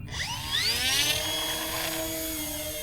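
The twin electric motors of a Twin Otter RC model airplane throttle up together, a loud, close whine climbing quickly in pitch and then holding high and steady.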